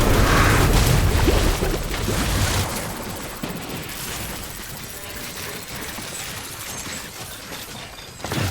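Rapid gunfire in a Death Stranding video game firefight: loud, dense bursts at the start, then a steady rattle of quicker, slightly softer shots that continues throughout, with a sharp crack near the end.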